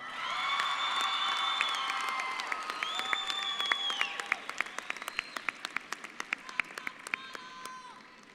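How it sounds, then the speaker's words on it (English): Crowd applause at a high school graduation honoring award recipients, with whoops and shouts from the audience over the start, thinning into scattered individual claps toward the end. "Let's give this year's recipients of the Scorpion Award a round of applause and congratulations."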